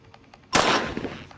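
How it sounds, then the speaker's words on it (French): A gun fired at targets in the video game Granny Chapter Two gives one sudden, loud close blast with a short ringing decay, after quiet faint game ambience. "Faut tirer sur les cibles."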